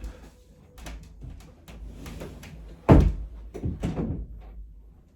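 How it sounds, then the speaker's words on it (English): Indoors, footsteps and shuffling lead to a door swung shut with one solid thunk near the middle, followed by softer knocks and movement nearby. "so I want to go close this door"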